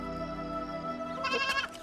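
Goat in a Punjabi comedy film, bleating in one wavering, nasal cry that rises near the end, close and clear over faint background tones.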